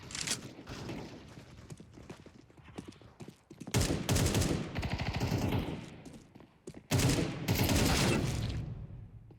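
Rapid bursts of rifle fire in Counter-Strike 2 ring out in two loud volleys separated by quieter clicks and movement noise, with some talk in between.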